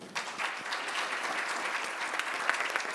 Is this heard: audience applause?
yes